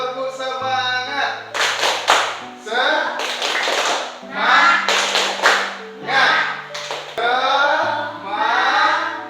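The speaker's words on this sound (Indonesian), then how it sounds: "Jadi kita tepuk semangat dulu." A school class performs a rhythmic spirit clap, with bursts of group hand claps in patterned beats alongside loud chanting voices in a room.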